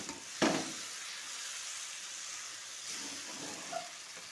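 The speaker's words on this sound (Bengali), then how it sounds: "এবার এই সাবুটা দিয়ে দেবো। এবার একটু ভালো করে কষিয়ে নেব।" Sago pearls stir-fried in a pan for khichuri, a soft continuous sizzle with a spatula scrape near the start and faint stirring later.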